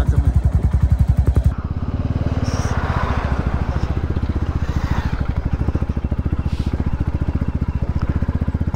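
A motorcycle climbing toward Kakani on a badly damaged, slippery road, its engine throbbing in a steady loud pulse with clattering over rough ground, close and continuous throughout.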